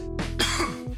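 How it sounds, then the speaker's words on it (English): One short cough, a quick rough throat-clearing burst that stops in about a second. "See, more coughing, there you go."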